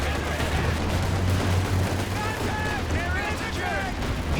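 A Walking Stuka rocket artillery barrage in Company of Heroes 2 rumbles with dense overlapping blasts and booming impacts, and rockets shriek and whistle through the second half over continuous battlefield noise.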